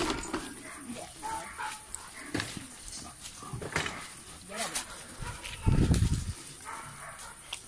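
A dog at a guard-dog training course barks and whimpers in short, scattered bursts with yips. People talk in the background throughout, and a louder low thump comes near the end.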